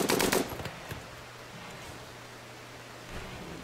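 A short burst of rapid gunfire in the video game RimWorld with rounds striking a wall, followed by a quieter stretch of low ambient hum and a few faint later pops.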